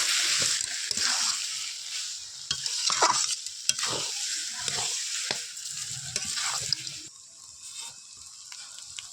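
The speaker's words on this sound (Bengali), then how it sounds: "দিয়ে ভালো করে নাড়াচাড়া করে নেব।" Bengali village-style crab curry with ripe ash gourd and ground garam masala being stirred in a pan, scraping spoon strokes and soft sloshing over a continuous sizzle, close and alone.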